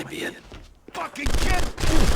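Gunfire in the Punisher video game, several sharp bursts of shots with quieter gaps between them, loud and close, with someone talking over the game.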